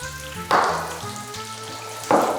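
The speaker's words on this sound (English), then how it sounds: "So we're gonna wanna get the bacon pretty crispy for this one, since it's on a pizza." Bacon crisps in a skillet for a skillet pizza, two bursts of loud close sizzling as pieces are moved, with steady background hum between them.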